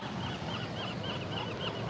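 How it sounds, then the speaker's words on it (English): Faint, repeated calls from a flock of seagulls flying overhead on a misty day, distant wavering cries over a steady wash of wind and background noise, with no talking. "Whole flock of seagulls flying over me."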